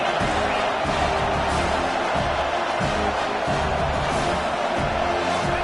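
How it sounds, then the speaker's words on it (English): A stadium crowd at a USC college football game roars steadily behind the defense during a red-zone stand, a dense, loud wash of cheering that runs throughout. "The crowd getting behind this defense as they try to get a stop in the red zone"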